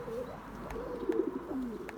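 A racing pigeon coos close by in a loft, its soft low rolling calls repeating several times over a quiet background.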